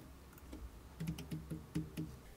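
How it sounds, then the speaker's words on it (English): Keys clack on a computer keyboard while a search term is typed into a Docker app on an OpenMediaVault server, about seven crisp, evenly spaced strokes close up against a faint background hum. "And we're going to type in Linux server or just OpenVPN AS."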